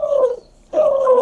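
A shelter dog whimpers and yips in two close bursts of high, wavering cries, separated by a short silent gap.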